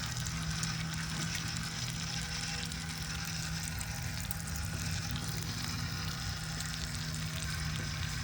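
Bacon and smash burgers sizzling on an Arteflame grill, a steady, even crackle that holds without a break from start to finish.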